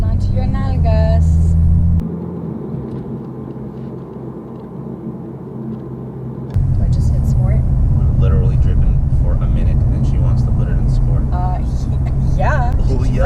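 A Toyota Supra pulls away after a brief idle, its engine rumble swelling loud and close and holding steady as the car drives off, with people talking inside the cabin.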